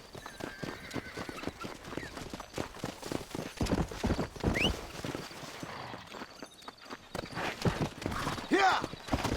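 Horse hooves clip-clop at a steady trot in the Red Dead Redemption video game, close and rhythmic, with a horse whinnying briefly and game voices over the galloping.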